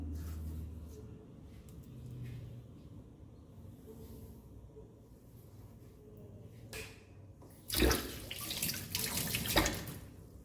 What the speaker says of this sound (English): Please wash your hands as soon as you finish the marination.